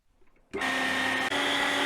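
A meat grinder mincing meat starts abruptly after half a second of near quiet, then runs as a loud, steady motor whine with a strong tonal hum and one brief dip in the middle.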